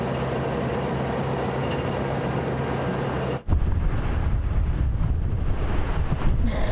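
Wind buffets the microphone on an open safari vehicle during a late-afternoon sunset drive in the African bush. A steady rushing roar drops out briefly midway, then returns with heavier low rumbling and gusts.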